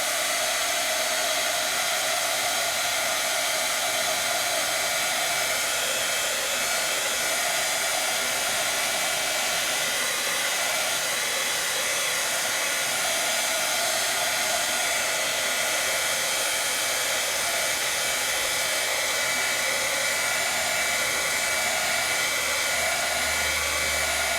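A hair dryer runs steadily and close by to dry ink on rice paper, giving an unbroken whirring hiss for the whole stretch with no talking.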